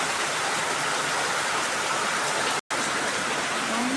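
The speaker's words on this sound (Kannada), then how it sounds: "ಮಳೆ ನೋಡಿ ಎಷ್ಟು ಬರ್ತಾ ಇದೆ ಅಂತ ಕಾಣಿಸ್ತಾ ಇದೆ" Heavy rain pours down in an even, unbroken hiss close by. It stays loud and constant, with one very brief drop partway through and no voices.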